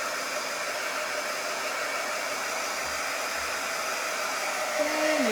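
Steady, constant blowing of a hair dryer–style heat tool drying paint on a craft welcome sign, an unbroken whoosh with a faint tonal whine and a brief slight shift near the end.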